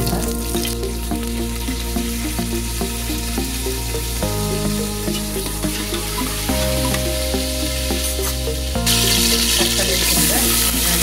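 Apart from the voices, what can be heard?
onions frying in oil in a pan for chickpea kurma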